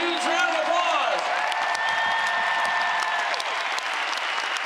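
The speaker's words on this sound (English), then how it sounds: "please give your own strings a huge round of applause" Loud, dense audience applause fills an arena during a concert at Consol Energy Center, with cheering and whoops, holding steady throughout without a break.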